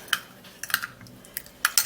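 A face-mask mixture gets stirred in a bowl, a few light clinks and taps of a utensil against the bowl's side, spaced irregularly and close up, with quiet gaps between.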